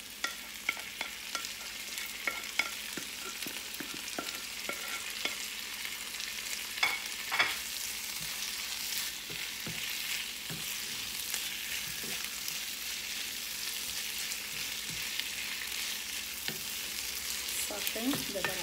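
Chicken and peppers fry in a pan with a constant crackling sizzle, scattered with quick scraping and tapping sounds of stirring, close and alone without voices.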